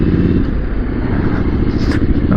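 A motorcycle engine barely ticking over at around 1800 RPM while riding, a loud, close, low thrumming rumble with steady pulsing and some wind rush layered over it.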